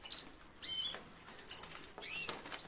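Well-kept caged birds flutter their wings in a few quick, soft bursts of flapping, faint and close, with short chirps mixed in.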